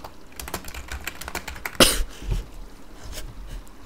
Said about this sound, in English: I'm now coughing.